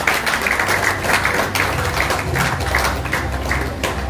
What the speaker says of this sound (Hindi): तो मैं ताऊंगा कि तालियों के गूंज में आपका इस्तकबाल कीजिए।